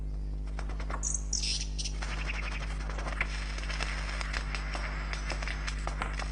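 Lyrebird clan calls ring out in short, varied bursts over a low steady hum, with scattered clicks and chirps in between.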